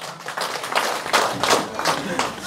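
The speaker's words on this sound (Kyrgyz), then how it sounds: "Кана эмесе кол чаап коебуз," Guests at a Kyrgyz family celebration clap together in a brisk, uneven burst of hand claps, fairly close and lively, with voices mixed in beneath.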